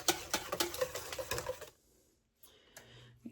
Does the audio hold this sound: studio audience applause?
no